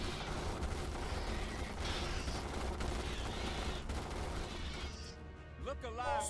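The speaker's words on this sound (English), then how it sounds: "They cannot even get close without being perforated by bullets." Troopers firing in Starship Troopers: Terran Command, a continuous roar of automatic gunfire and distant impacts, steady and dense throughout, with a voice speaking briefly near the end.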